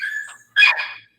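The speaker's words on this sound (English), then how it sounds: "sorry about my puppy." A puppy gives a short, high yelping bark followed by a brief whimpering yip, close and fairly loud in an otherwise quiet indoor room during a library trustees meeting.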